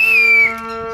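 A single sharp, loud police-style whistle blast, shrill and steady for about half a second and then trailing off, heard alone with no talk, amid a devotional folk-tale performance with dholak.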